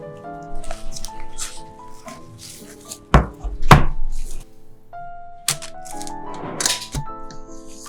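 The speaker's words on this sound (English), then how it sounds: "Cut the cling film and remove the set cream from the springform pan." Cling film over set cream in a springform pan is cut and the cream is lifted out. Crisp cuts, sharp cracks and soft squishy handling noises come in scattered bursts against a faint tonal background, with no talk.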